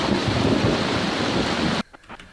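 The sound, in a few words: thunder during a storm on the Appalachian Trail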